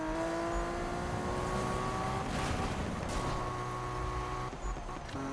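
A car in the racing video game Need for Speed on PS4 revs hard, its engine whine climbing steadily in pitch, then shifting down and rising again, loud and continuous.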